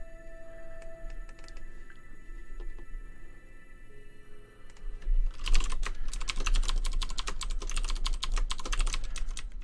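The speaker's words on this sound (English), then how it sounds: "so I'm not sitting here typing numbers and rebuilding over and over" Rapid, close typing of numbers on a computer keyboard: dense clattering keystrokes start about halfway through after a quieter stretch and continue steadily to the end, with no talking.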